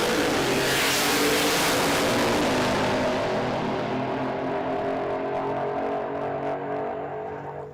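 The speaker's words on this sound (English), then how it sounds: "Tell you what, I love the sound of supercharged Barra." Supercharged 3.7 litre Barra engine in a Cressida at a drag racing event, a loud sustained high-revving roar that fades slightly as the car pulls away, with no talk over it.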